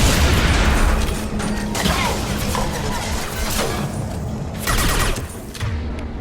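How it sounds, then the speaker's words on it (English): Rapid gunfire and crashing impacts from a Mass Effect 2 firefight, aimed at a fuel tank coming loose, fill the whole stretch with dense, loud bursts over a steady game rumble. "That fuel tank's coming loose. Shoot it! Shoot it down!"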